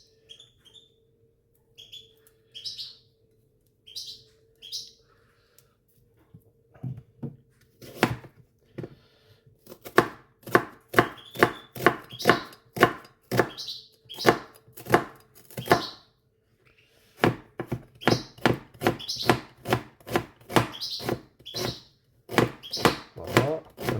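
An onion is sliced with a knife on a board, slow sparse cuts at first, then a brisk run of sharp, evenly spaced chops close by, with quiet pauses between bursts.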